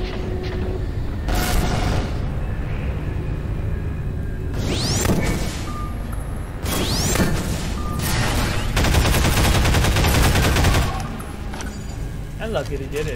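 Pulse gun in the Half-Life mod Prospekt fires in loud, sustained bursts of rapid energy shots with sweeping whooshes and booms, repeated several times over steady game noise.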